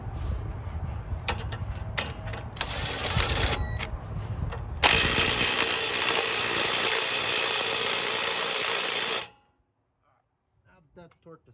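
A track bar ball joint nut on a Super Duty truck is tightened to torque spec, with a rattling tool burst followed by a steady loud whirring run that stops abruptly, then a short stretch of near silence.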